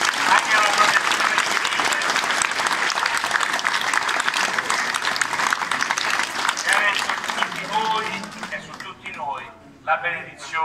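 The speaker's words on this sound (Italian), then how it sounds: "facciamo un applauso anche alla protezione." Sustained applause rises from the crowd at the Santo Strato procession, a thick, steady wash of many hands clapping that fades near the end as a voice comes in.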